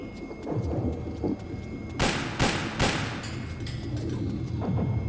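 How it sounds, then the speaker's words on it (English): Gunfire in the Metal Gear Solid 4 video game: a few sharp, loud bursts of shots cluster around the middle of the clip over bass-heavy background game audio. "Little loud, but just the gunshots."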